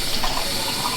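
Water poured from a can into a cooking pot for a Persian herb stew, a brief steady splashing gush, close and fairly loud.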